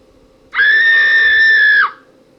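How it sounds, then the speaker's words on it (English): A ghost in the Windows point-and-click game Uninvited lets out a single loud, sustained synthetic shriek, a steady high-pitched wail lasting just over a second with an abrupt start and a quick falling cutoff. "The possessive ghost shrieks at the sight of the stunned spider."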